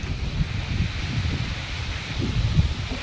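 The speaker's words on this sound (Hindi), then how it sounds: "देखो कितनी तेज़ हवा चल रही है, आवाज़ भी आ रही होगी।" Strong wind through peepal tree leaves on a rooftop, a continuous rushing rustle with gusty swells, close and fairly loud with wind buffeting on the microphone.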